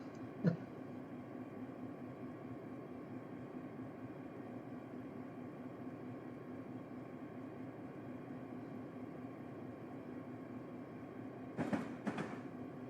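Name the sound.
locomotive running in Train Simulator 2021 video game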